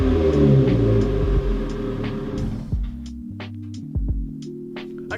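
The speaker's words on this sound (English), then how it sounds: "my boy's exhaust sounds pretty nice" A Mitsubishi Lancer's exhaust revs up loud and close, a deep throaty rumble that swells and then drops back to a lower idle burble with a few short blips.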